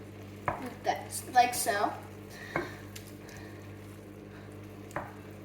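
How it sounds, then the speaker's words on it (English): Sauce is stirred into Portuguese pica-pau frying in a pan: a few close scrapes and clinks of a utensil against the pan over a faint sizzle, with a brief spoken remark. "And then what you wanna do is you just wanna stir it in."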